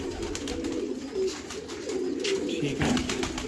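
Caged pigeons coo in low, soft, repeated calls at close range, with some background noise.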